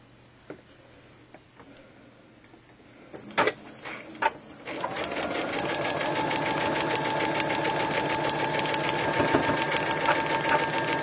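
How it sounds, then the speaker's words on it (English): A few scattered clicks and knocks, then a sewing machine starts up and runs steadily with a fast, even mechanical rattle, close by, stitching over a seam. "you hear that little bump, that just meant I've gone over a seam."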